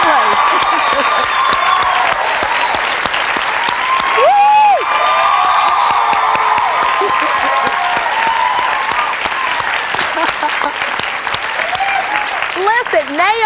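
Studio audience at a television talk show applauding and cheering for Naomi Judd, steady loud clapping with whoops and shouts throughout, voices rising over it at moments.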